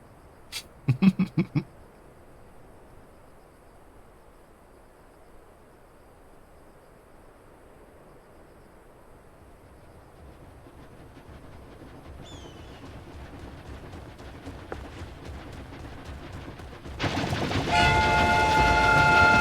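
Runaway train in Final Fantasy XIV, a short horn blast near the start, then a low rumble that swells steadily toward a loud rushing roar at the end.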